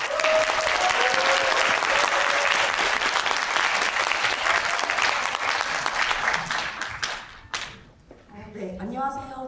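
An audience at a system-change movement gathering breaks into loud, sustained applause, dense clapping that fills the space for several seconds before thinning out, followed by a few scattered claps and a voice starting to speak.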